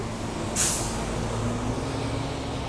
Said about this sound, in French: vous risquez d'avoir le bruit des voitures